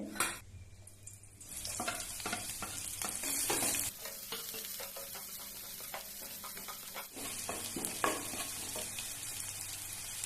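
Steady crackling sizzle of two spoons of hot oil frying spices for tempering, with occasional stirring scrapes, continuous and fairly close, no voices.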